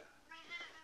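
A pet cat gives a single short, fairly faint meow heard up close indoors, alone and without talk.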